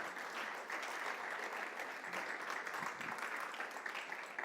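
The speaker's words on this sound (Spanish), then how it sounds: "qué les parece que le demos un fuerte aplauso a Él" A church congregation applauds during a Spanish-language service, producing a continuous wash of many hands clapping at once, steady and somewhat distant, with no talking over it.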